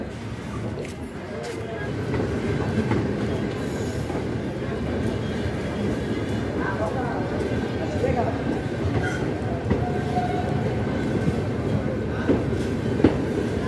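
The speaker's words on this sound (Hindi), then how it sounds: "छपरा कचहरी ट्रेन पहुंच चुकी है भाई 2 किलोमीटर की जर्नी करने के बाद अपने पहले हॉल्ट पे" A MEMU express train from Chhapra to Sonpur rolling into Chhapra Kachahari halt, a steady rumble with clattering wheels and faint squeals throughout, while someone talks over it.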